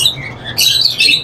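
A pair of cut-throat finches in a bird shop let out sharp, high chirps in two quick close bursts.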